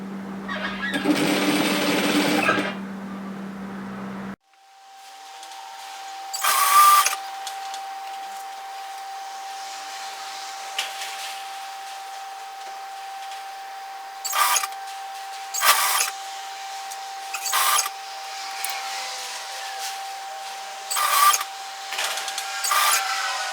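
A sewing machine stitches a varsity bomber jacket seam in a few short, close bursts of running, separated by quiet pauses, after an opening stretch of steady machine hum; no talk.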